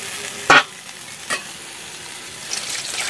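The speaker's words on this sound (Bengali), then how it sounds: "এই যে ঢ্যাঁড়সটা একটু ভাজা ভাজা হয়ে গেছে, মশলাটা দিয়ে আর একটু ভেজে নেবে" Okra fries in hot oil in a pan as spices go in, giving a steady soft sizzle broken by a sharp clatter of stirring and a second lighter scrape a little later.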